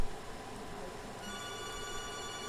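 A telephone rings as a caller phones in to a televised bingo show, a steady trilling ring over low background noise, with no talk.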